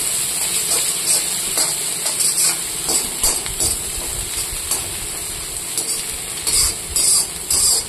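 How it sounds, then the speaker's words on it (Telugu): Eggs and vegetables for fast-food-style double egg fried rice are stirred in a hot pan, a loud continuous sizzle and hiss punctuated by repeated scraping strokes of the spatula, with no voices. "2 times మనం ఇటు అటు కలుపుకున్నామంటే ఎగ్స్ వెజిటేబుల్స్ అయితే మిక్స్ అయిపోతాయి"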